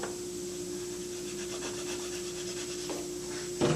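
Burrs being smoothed off a wooden cabinet joint with a hand tool, giving a steady soft rasping rub throughout, with a sharper knock near the end.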